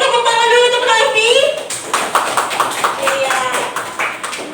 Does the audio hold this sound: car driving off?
no